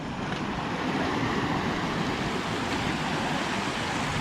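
Creek water rushing steadily at a crossing along the Middle Fork Snoqualmie River, a dense, even roar that stays constant and close throughout with no voices.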